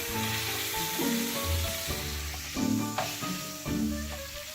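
A roughly 2 cm thick beef fillet sizzles in a pan with lard and aromatics, a continuous frying hiss with brief swells, mixed with steady tonal background sounds.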